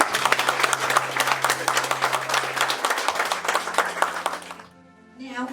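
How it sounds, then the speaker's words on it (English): Audience at a sheriff candidates' forum in Vero Beach, Indian River County, claps in a steady round of applause for three candidates, with a low electrical hum beneath it that fades as the clapping stops near the end. "we do want to give them a round of applause right now."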